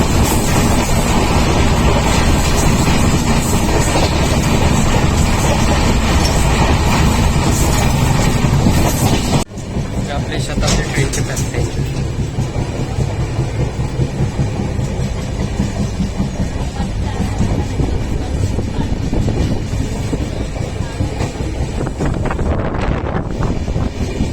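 A moving Jan Shatabdi passenger train bound for Ratnagiri rumbles loudly and continuously with heavy wind rush; the roar drops abruptly partway through, then carries on steadily.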